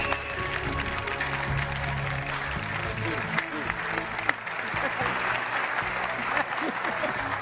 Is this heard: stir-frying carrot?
no